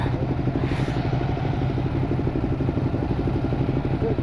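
A 2016 Ducati Hypermotard 969 motorcycle running on the road, its engine giving a steady, loud, close throbbing drone that continues without a break.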